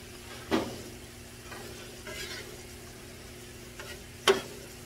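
Onions cook softly on a griddle over low heat, a faint gentle sizzle broken by a couple of sharp spatula scrapes and taps against the metal.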